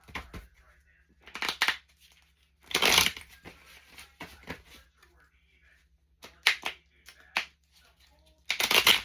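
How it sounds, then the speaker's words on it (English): Bursts of riffling card noise come in several short batches with quiet pauses between, close by, with a few soft taps and rustles. "Okay, we're shuffling."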